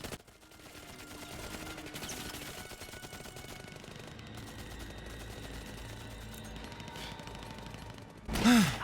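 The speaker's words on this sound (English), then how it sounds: "And the Tommy guns." Tommy gun fire rattles in an animated Justice League episode, sustained dense bursts of automatic shooting blended into a busy soundtrack, ending in a sharper louder flourish.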